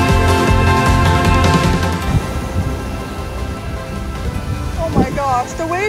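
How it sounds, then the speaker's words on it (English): Heavy rain on a Big Island beach in Hawaii, a dense, constant hiss and wash close by, with brief talking cutting in under it. "Also very rainy"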